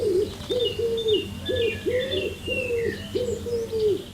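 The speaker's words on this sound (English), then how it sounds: "Here's a wood pigeon." A wood pigeon coos repeatedly in a steady rhythmic series of soft, low hooting notes, close by, with faint chirping birds in the background.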